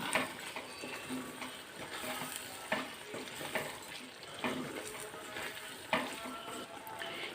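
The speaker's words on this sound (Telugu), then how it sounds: "ఈ మసాలాలు కూడా బాగా వేగనిద్దాం" Masala spices with chilli powder frying in a pan for a chicken gizzard fry, a steady close sizzle with scattered crackles and pops and occasional stirring scrapes, no talk.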